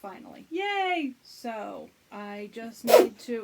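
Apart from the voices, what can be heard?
sneeze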